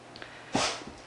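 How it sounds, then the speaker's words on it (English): A single short, snorting burst of rapid inhaled gasps from a dog's reverse sneeze, close by, lasting about half a second, with faint shuffling before it. "She was just having a reverse sneeze."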